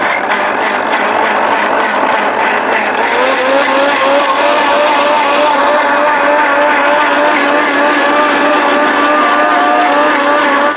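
A mixer grinder runs with its lid closed while blending a healthy kurukku porridge mix, giving a loud, steady motor roar whose whine climbs in pitch and then holds, with no talking.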